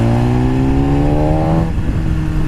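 A 2014 BMW S1000RR HP4 superbike engine revs hard with rising harmonic tones for over a second, then drops off into a rougher, lower drone, loud and continuous with no talking.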